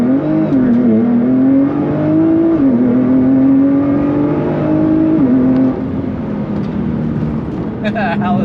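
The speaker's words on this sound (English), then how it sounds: "he's gonna use launch control for the first time here." A Nissan GT-R launches off the line using launch control, its engine roaring loud and close with a strong sustained drone that dips and steps as revs shift.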